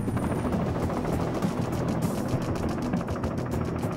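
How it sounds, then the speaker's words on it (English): A military helicopter's rotor beats in a continuous rapid thumping under a loud, dense engine roar that never lets up. "Most rotor noise is caused by the tips of the helicopter's blades moving through the air at supersonic speed."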